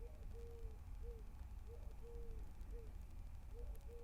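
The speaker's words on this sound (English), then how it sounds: "Can you hear that bird?" A bird repeats short, tonal hooting calls in a steady rhythm over a low outdoor rumble, moderately distant.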